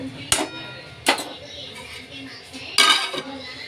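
Steel pots and utensils clink and clatter in a home kitchen as cooked moth-bean and potato vegetable is transferred from a pressure cooker into a pan; three sharp bursts of metallic clatter, close and fairly loud, with faint talk in between.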